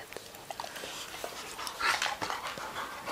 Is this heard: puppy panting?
yes